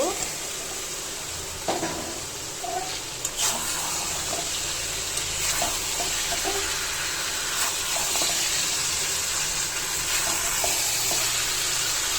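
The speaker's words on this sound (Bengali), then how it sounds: "এখন আমি চিকেন ভাজাগুলো দিয়ে দিব।" Fried chicken pieces sizzle in a cooked-down spice paste for chicken roast, a steady close frying hiss with a few stirring clatters throughout.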